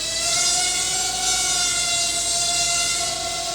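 A small drone hovers indoors with its throttle held steady, giving off a constant, close, whining buzz with steady tonal lines and no speech.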